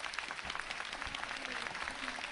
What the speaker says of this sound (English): let's give a warm welcome and applaud to the astronauts